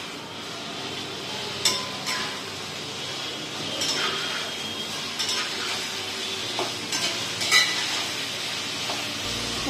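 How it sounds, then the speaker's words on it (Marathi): Kadai paneer masala is stir-fried in a pan over a high gas flame, a steady sizzle broken by repeated scraping and clinking of a spoon against the metal, with no talking. "गॅसची आग त्याची मोठीच ठेवायची आपल्याला, असं मोठे याच्यावर परतवून घ्यायचे"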